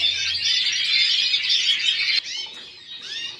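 Pet birds in an aviary keep up a dense, shrill flurry of high chirps and squawks close by, briefly cut off partway and then resuming more sparsely.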